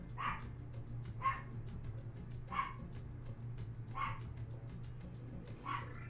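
A dog barks indoors in five evenly spaced, sharp barks roughly a second apart over a steady low hum, with no talking.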